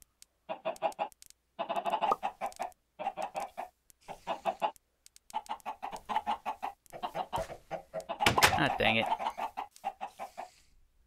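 Video-game chickens cluck in rapid, repeated bursts throughout, with a brief spoken exclamation partway through.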